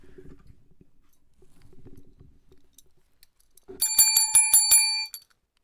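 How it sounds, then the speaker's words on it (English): A small bell, like a bicycle bell, rings in a quick run of about six bright dings near the end, loud and close, after quiet rustling handling noises. "Got a bell around here somewhere."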